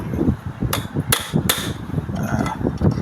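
Sharp metallic hammer blows strike a few times at an uneven pace, close and loud, over a busy background rumble, as a nail is tapped to mark drilling points on a string trimmer line head.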